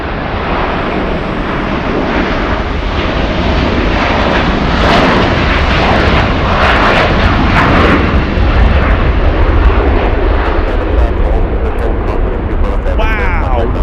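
Alaska Airlines flight 803, an airliner taking off at LAX, gives a loud, steady jet engine roar that holds throughout, heard from the spotting area with wind buffeting the microphone.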